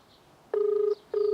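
Telephone keypad tones at close range: two steady beeps, each about a third to half a second long, separated by a short gap, as a phone number is dialed.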